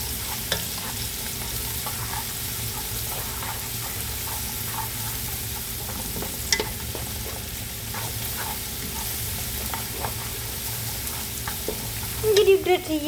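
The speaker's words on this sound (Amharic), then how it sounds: "እንደዚህ መከሮኒ ለመስራት ያው ሽንኩርት አቁላልቻለሁ። ከዛ ነጭ ሽንኩርት ጨምሬያለሁኝ።" Onions and garlic frying in a pan for macaroni, a soft continuous sizzle with occasional stirring clicks and scrapes, a burst of louder scraping near the end.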